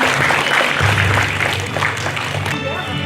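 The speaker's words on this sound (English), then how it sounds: "Let's have a big round of applause for them." Parents applaud at a school graduation ceremony, a loud, close burst of clapping from a crowd lasting a few seconds, with voices mixed in underneath.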